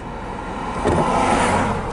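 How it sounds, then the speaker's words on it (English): A car drives past on a rural road near Chloride, Arizona. Its engine and tire noise swell midway, then hold steady as it goes by close and fairly loud. "Got a car coming up on us, so we're going to let him go by."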